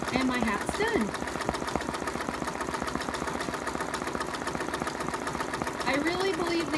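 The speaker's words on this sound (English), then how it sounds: "I'm going to let the rest of the letter stitch out" An embroidery machine stitches letters onto a hat with a fast, steady needle clatter that runs throughout, up close, while a person talks softly over part of it.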